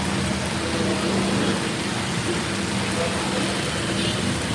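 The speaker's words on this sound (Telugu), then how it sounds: "ఒక్కసారి మీకు వర్షం ఎలా పడుతుందో చూపిస్తాను" A steady downpour of heavy rain drums across a flooded Hyderabad road and flyover jammed with traffic, a constant loud wash of noise without letup.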